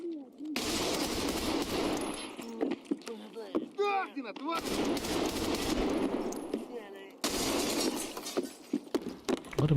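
Sustained automatic gunfire from Escape From Tarkov, dense bursts of shots running through most of the stretch with two brief pauses, with a voice speaking over the firing in between.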